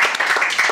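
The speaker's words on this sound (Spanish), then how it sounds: "¡Aplausos para Carlito Escobar!" Brief burst of clapping from a small group applauding Carlito Escobar, a quick patter of hands lasting under a second with faint voices mixed in.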